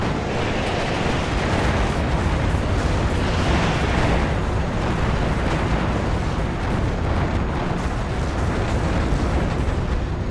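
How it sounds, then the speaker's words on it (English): Explosions in the WARNO strategy game as AH-1F Cobra helicopters pound a T-80 tank: a dense, continuous roar of blasts and rumbling impacts, loud and unbroken throughout. "This T-80 is just getting hammered right now, absolutely devastated by those H-1F Cobras."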